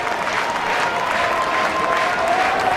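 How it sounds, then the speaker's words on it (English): A large track-stadium crowd at Hayward Field claps steadily during a men's 1500m race, a loud, continuous wash of applause with a faint pulsing rhythm. "And the rhythmic clapping that we are so accustomed to hearing here at Hayward Field begins"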